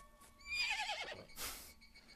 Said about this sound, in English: horse noise.